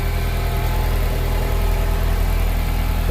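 A turbocharged Acura TSX engine idling steadily right after its first start-up, running slightly smoky as extra oil burns off; a loud, even, close rumble with no talking.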